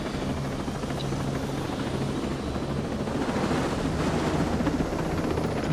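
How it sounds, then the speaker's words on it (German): Helicopter flying in a video game, a steady rotor drone with airy wind-like rush, continuous and fairly loud throughout with no talk. "Also können wir den Heli schnappen und dann geht's ab zum Einsatzgebiet."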